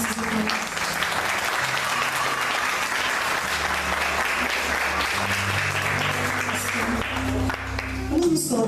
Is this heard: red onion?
no